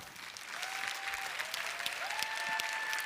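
A convention audience breaks into applause, the clapping swelling after a brief quieter start and holding as a dense, steady crowd ovation in a large hall.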